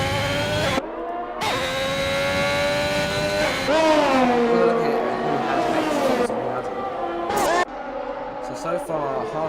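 An Xbox racing car pulls away from a pit stop at Imola, its engine revving and rising in pitch as it accelerates, close and prominent with tonal whine and shifting gears, while commentary talks over it.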